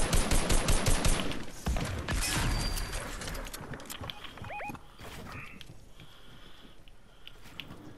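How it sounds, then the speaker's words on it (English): Loud, rapid bursts of shotgun gunfire in an online shooter game, blasts packed densely at first and then thinning into scattered shots and mechanical clatter. "He's shooting with the shotgun."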